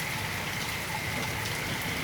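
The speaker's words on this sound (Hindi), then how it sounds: "बहुत ही तेज़ और ज़बरदस्त बारिश हो रही है।" Heavy rain in Lahore, Pakistan pours steadily in a dense, even hiss with no break, close and continuous throughout.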